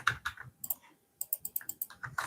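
Keys clatter on a keyboard in quick bursts of close, crisp clicks with a brief pause midway, alone with no voices.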